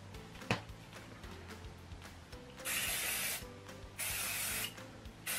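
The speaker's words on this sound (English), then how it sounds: "I'm just gonna give it a bit of spray with hairspray" Hairspray hisses from an aerosol can onto styled waves of hair in two sustained bursts of about a second each, close and fairly loud, after a quiet stretch with a short tap near the start.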